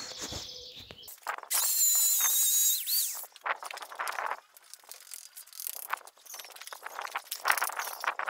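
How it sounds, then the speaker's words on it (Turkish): A power drill whirs in one steady high whine for about a second and a half while a PVC water pipe is fastened down during pipe laying in a garden, followed by scattered rustling and handling noises. "Matkapla sabitleyeceğiz."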